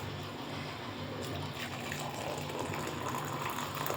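Tap water runs steadily and fills a container at a home sink for washing dishes, a continuous broadband gush at close range with no talk over it.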